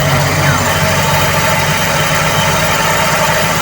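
A Toyota 2E carburetor engine idles with a steady, loud, continuous drone as its RPM climbs, constant mechanical hum and vibration throughout, no speech over it.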